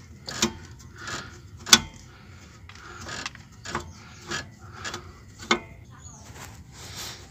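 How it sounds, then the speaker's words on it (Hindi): A car jack is pumped up under the rear suspension of a Hyundai Eon during a shock absorber repair, giving a series of rhythmic metallic ratcheting clicks and clanks, fairly close, with someone talking in between. "थोड़ा मैच नहीं होता तो नीचे से हम जैक चढ़ा देंगे"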